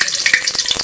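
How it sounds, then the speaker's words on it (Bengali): Black cumin and two dried chillies sizzle in hot oil while being stirred, a loud, close, crackling fry over a brief moment. "কালো জিরা দিলাম, 2টা শুকনা মরিচ, এটা দিয়ে একটু নাড়াচাড়া করে নেব।"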